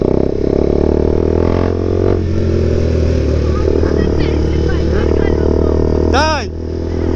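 A KTM RC 390 motorcycle drones steadily on the road with a constant low engine note and wind rush, carrying a rider and passenger; a vehicle horn blares briefly near the end.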